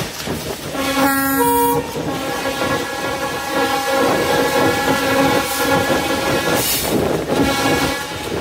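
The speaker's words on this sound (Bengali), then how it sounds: "আমাদের ট্রেনটি এখন নচ খুলতে শুরু করেছে।" A Bhanga commuter train pulling away: a loud horn blast near the start, then a steady rolling rumble and clatter of the carriages as it gathers speed.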